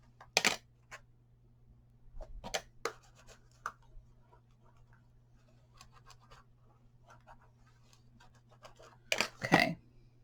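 Paper being burnished onto the bottom of a DIY spinning craft carousel caddy gives sharp scraping rubs in short bursts, close and quiet between strokes, with a low steady hum underneath and a louder cluster of rubs near the end.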